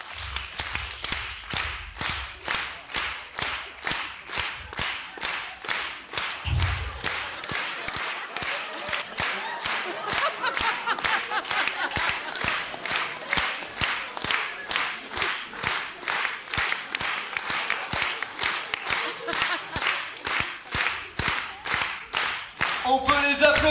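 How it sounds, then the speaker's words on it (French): An audience at a hypnosis show in Champagnole claps in unison, a steady, rapid rhythmic beat of many hands that keeps going, fairly loud throughout. "On peut les applaudir bien fort, mesdames et messieurs."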